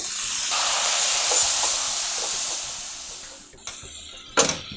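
Steady hissing sizzle of tomatoes frying with onions in hot oil, loud and close, easing near the end, with a couple of sharp clinks.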